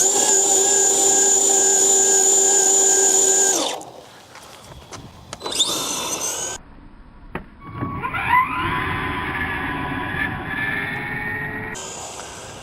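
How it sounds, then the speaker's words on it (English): Team Associated DR10 electric RC drag car on a 2S battery doing a burnout, a loud high motor whine held steady for several seconds, then cutting off, followed by shorter bursts and a rising whir. "Do a little burnout."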